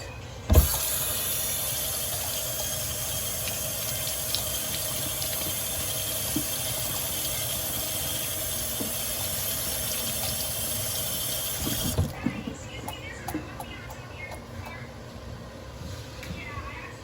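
Baby bella mushrooms are rinsed under a running kitchen tap, making a steady loud rush of water that stops near the end and gives way to quieter handling sounds.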